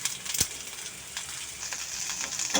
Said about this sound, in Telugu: ఇది బాగా వేగిపోయింది కదా